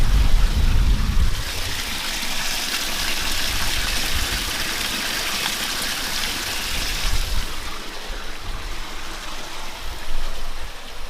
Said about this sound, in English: See over here that there's a lot of water coming out around there.